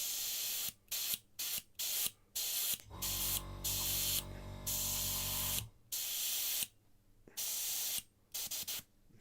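Airbrush sprays paint through the needle with paint mixed in the cup, coming in repeated short hissing bursts and one longer continuous spray with a low pulsing tone underneath, close and loud.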